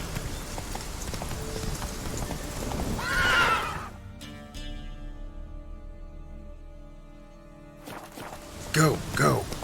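The horse Roach in The Witcher 3 galloping with rapid clip-clop hooves and a loud whinny, then a quieter stretch before the hooves and neighing return, with game sounds and speech around.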